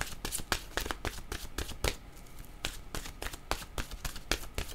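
Oracle cards shuffled by hand, a steady run of soft riffling slaps and paper flutters, close and quiet with no talking.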